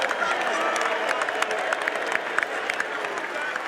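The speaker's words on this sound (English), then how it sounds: "can we please give a round of applause for NC State on a tough fight and a great" Stadium crowd at the Duke's Mayo Bowl applauding and cheering for NC State, a dense, steady wash of clapping with scattered louder claps, moderately distant and sustained throughout.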